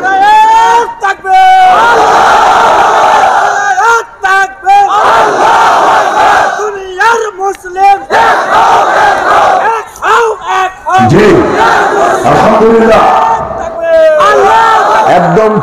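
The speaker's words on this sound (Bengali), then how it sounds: "স্লোগান যখন হবে সবাইকে অংশগ্রহণ করতে হবে দেন একজন স্লোগান দেন" A large crowd at a Bangla religious gathering chants slogans back to a leader in loud, repeated surging shouts, with brief pauses between call-and-response rounds.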